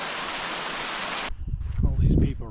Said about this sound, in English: Huh, it's a waterfall.